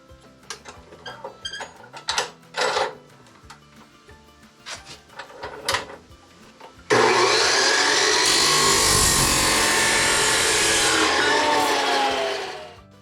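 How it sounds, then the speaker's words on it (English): A saw blade cuts through steel pipe for a lumber storage rack. Quiet workshop handling gives way to a loud, steady grinding cut that holds for about five seconds, then stops abruptly. "This blade does a nice job cutting the steel, cuts it pretty quick"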